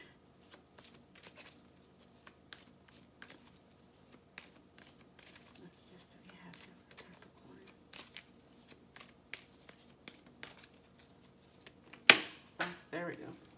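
Tarot cards being shuffled by hand, a soft, quiet run of riffling and sliding card sounds, with a couple of louder snaps near the end.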